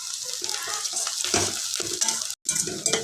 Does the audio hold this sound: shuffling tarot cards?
no